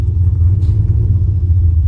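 A turbocharged LS engine in a 1993 Ford Mustang Foxbody rumbles loudly and steadily at close range, a deep low-pitched idle with a slight rise in revs, no voices.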